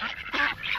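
Ducks at a homestead pond quack in three quick, close, loud bursts.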